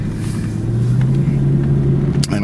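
A 1989 Jaguar XJS V12 pulls away, its engine a steady, loud low rumble that holds evenly, with a brief higher noise near the end.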